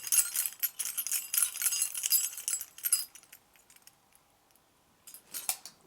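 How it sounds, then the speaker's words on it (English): A bunch of keys jangles and clinks in a rapid, close metallic burst for about three seconds inside an underground prison cell at a railway station, then drops to near silence before a brief second rattle. "got some keys here."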